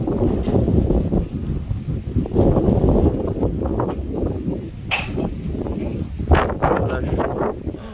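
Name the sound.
strong wind gust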